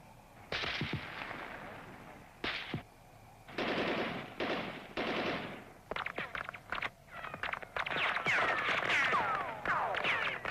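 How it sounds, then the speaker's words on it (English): Machine gun fire from a protected guard position in a 1972 training film about meeting a terrorist threat comes as rapid bursts that start and stop, then denser, sustained firing toward the end, loud and alone. "the 2 terrorists are eliminated by machine gun fire from the protected guard position."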